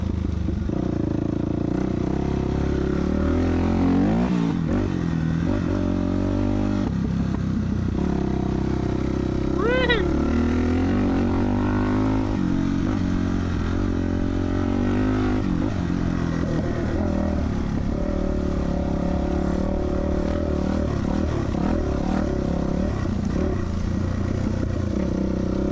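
A 2000 Yamaha YZ426F four-stroke single-cylinder dirt bike engine thumps and revs loudly and continuously nearby, pitch rising and falling with throttle blips, while someone talks over it.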